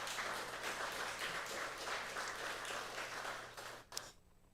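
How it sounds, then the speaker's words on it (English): An audience at an emancipation lecture claps steadily in a sustained, even round of applause that thins out near the end, with a faint steady hum beneath and no talk. "So please give them a round of applause."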